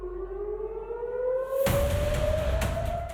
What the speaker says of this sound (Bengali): ঘন ঘন সাইরেনের শব্দ